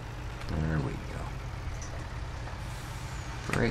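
A truck's air brakes release with a short hiss in Farming Simulator 19, heard over a steady low engine drone, with a second hiss at the end.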